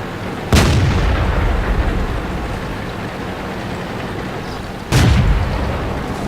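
Tank cannon fire in the World of Tanks video game, two heavy booming shots about four seconds apart, each a sudden loud blast followed by a long rumbling decay over steady battlefield ambience.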